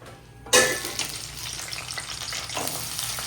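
Onions hit hot oil for a fish curry, bursting into a sudden loud sizzle after a quiet start, then settling into a steady close crackle with a brief flare near the end.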